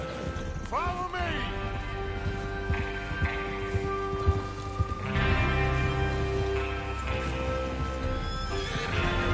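Horses in the Red Dead Redemption 2 video game, with a loud whinny near the start and then steady hoofbeats and movement under game sounds and a low background rumble, with no clear talk.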